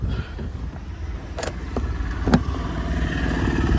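A used 2015 car engine runs during a test drive, a steady low rumble from inside the cabin with a few small knocks and clicks.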